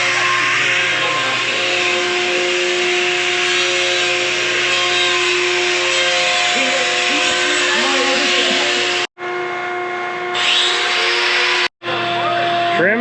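A power tool trimming a bull's hooves, a continuous loud whirring hiss with two brief cutoffs near the end, with speech heard.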